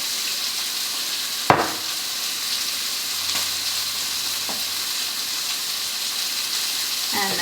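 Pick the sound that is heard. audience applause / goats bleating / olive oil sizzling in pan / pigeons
olive oil sizzling in pan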